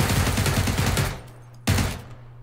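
Gunshots in PUBG, heard as a fast, loud burst of automatic fire that stops after about a second. A short pause follows, then one more sharp, close shot that trails off. No talk comes through over the shooting.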